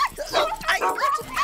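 A cartoon dog barks and yips in short, bright bursts, close and lively, over about a second and a half, with some cartoon voice activity mixed in.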